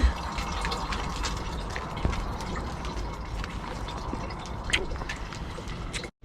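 Running water flowing steadily at a coastal spot near Kaş, a soft continuous trickle with occasional splashes and knocks, heard beneath faint voices.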